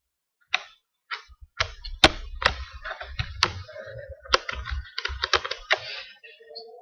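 Computer keyboard keys are pressed in separate, irregular clicks and taps, close and crisp, with short quiet gaps between bursts of keystrokes.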